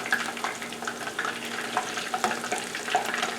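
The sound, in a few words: chicken pieces bubbling while deep-frying in oil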